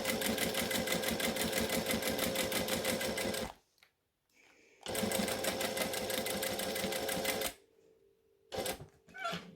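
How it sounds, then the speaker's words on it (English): A sewing machine stitches up the side of a pouch 1/8 inch from the edge, running in two long rapid, even bursts of close mechanical chatter, separated by a brief pause, then a few short stitches at the end. "I'm going to stitch 1/8 of an inch from the edge up the side"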